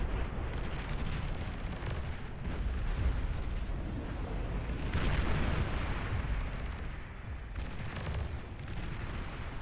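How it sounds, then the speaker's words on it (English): Deep rumbling explosions from EMP tactical missiles and nukes roll through a Beyond All Reason strategy battle, a sustained low boom with swelling blasts, distant and heavy. "We're seeing some nuking or some EMP tactical missiles there from the blue team"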